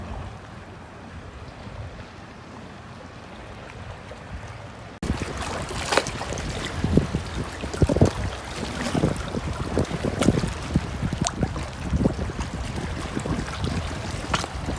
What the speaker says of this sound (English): The waves are crazy out here.